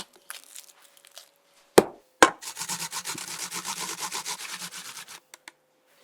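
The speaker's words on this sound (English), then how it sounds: "Add a large peeled onion, grated." A large peeled onion rubbed against a hand grater, with a couple of sharp knocks followed by a steady run of rhythmic rasping strokes, close and fairly loud.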